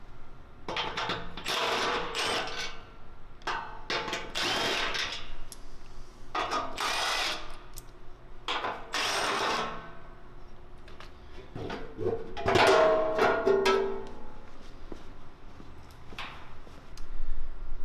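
Factory 13mm bolts come out of a Toyota Tacoma skid plate under a power tool, with repeated short whirring bursts and pauses between them and a busier clatter toward the end.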